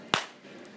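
A single sharp hand clap rings out in a reflective room, followed by a fast, fluttering echo that trails off over a fraction of a second.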